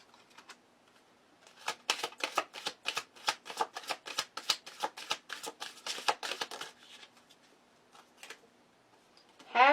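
Tarot cards shuffled in a long run of quick riffling bursts, close and crisp, fading out near the end with a brief bright sound at the close.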